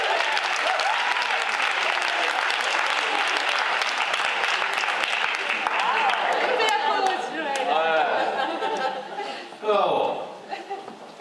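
Scattered applause from a comedy-show audience in a large venue, loud and continuous for most of the span with some chuckles mixed in, thinning out toward the end.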